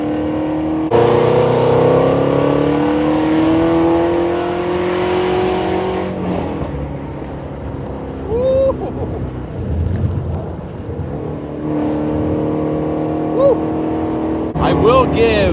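A Ford Mustang Shelby GT350 engine accelerating hard on back roads, a loud, rising roar that breaks at two gear changes and keeps pulling close up, with a voice now and then over the engine.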